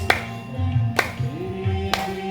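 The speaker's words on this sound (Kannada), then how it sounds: "ಚಪ್ಪಾಳೆ ತಟ್ತಾ" Hands clap three times at the start of a yoga session, sharp claps evenly spaced about a second apart over a soft, steady tonal background.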